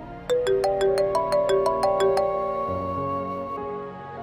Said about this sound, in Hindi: सलमान का फोन।